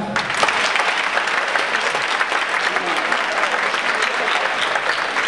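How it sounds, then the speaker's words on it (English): Audience applause at a Martin Luther King Jr. rally held in a church, a dense, steady wash of many hands clapping throughout, loud and sustained with no break. "By a round of applause, how many of you have ever worked in a restaurant?"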